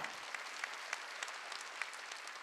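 A congregation claps at a church worship service, a soft, distant wash of many hands with a few sharper claps standing out at a roughly steady pace.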